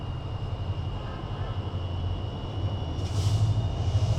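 A train passing slowly on a railway, with a steady low rumble and hum that grows louder toward the end and a brief high hiss near the close, heard nearby without talk.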